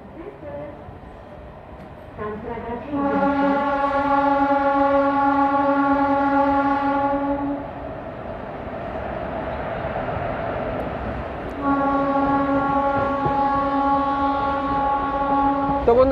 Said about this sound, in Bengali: তো বন্ধুরা, ট্রেন ছেড়ে গেল আমাদের সাঁতরাগাছি থেকে